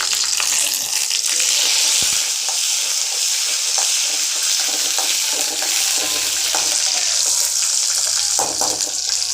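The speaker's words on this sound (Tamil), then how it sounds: "கடுகு, உளுத்தம் பருப்பு, இந்த நம்ம வச்சுருக்கோம் இல்லையா கருவேப்பிலை, மிளகா, ஏலக்காய், இது எல்லாத்தையும் போட்டுடணும்." Mustard seeds, urad dal, curry leaves, chili and cardamom fry in hot oil for a jackfruit seed thokku, giving a loud, steady, close crackling sizzle with occasional stirring scrapes and no talking.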